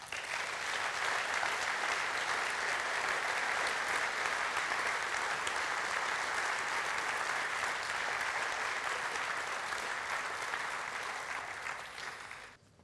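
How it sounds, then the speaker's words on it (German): Sustained audience applause at an opening event, dense even clapping from a sizable crowd that continues steadily for about twelve seconds before tapering off at the end. "einen recht herzlichen Applaus"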